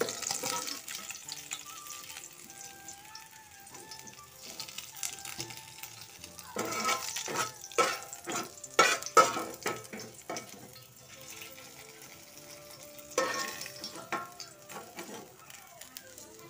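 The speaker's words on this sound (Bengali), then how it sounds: "রসুন আর শুকনো মরিচ দিয়ে হচ্ছে কচুর ডাগাটা ভাজা করে নিচ্ছি চটপট।" Taro stems fry in a pan with garlic and dried chili, giving a continuous close sizzle. Bursts of clattering stirring and some splashing water run through it.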